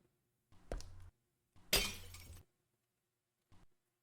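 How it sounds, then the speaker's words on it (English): Glass shatters in a video game: a sharp break with a tinkling tail, then a bigger crashing burst of breaking glass, and a faint final clink, each event isolated against silence. "I don't know if you can hear that broken glass."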